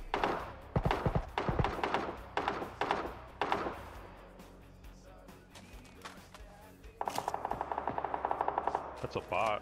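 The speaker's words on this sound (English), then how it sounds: "He's shooting at us." Gunfire in an online shooter game: several bursts of heavy shots at the start, a quieter stretch of rumble, then a long rapid automatic burst near the end, loud and close.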